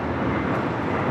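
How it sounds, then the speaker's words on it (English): An SAS Airbus A330 landing at LAX gives a steady, fairly distant jet roar, a broad rumbling wash with no voices. "Looks like the SAS A330 going to be landing here on the south side."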